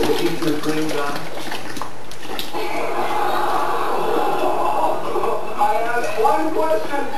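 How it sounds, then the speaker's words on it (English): Cold water poured and stirred into a batch of homemade laundry soap, a steady splashing, sloshing wash that runs the whole time, close and fairly loud, with a voice talking over part of it. "Then you add your water, cold water,"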